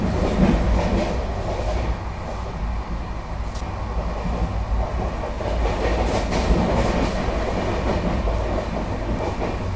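Tejas Rajdhani Express running through a station without stopping, heard as a steady loud rumble with rhythmic clickety-clack of wheels over rail joints, continuous for ten seconds and with no voices.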